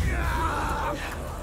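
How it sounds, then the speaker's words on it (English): Anguished screaming voices in the video game Senua's Saga: Hellblade II, a continuous strained yell that fades slightly toward the end, heard close over a low rumbling backdrop. "the screaming"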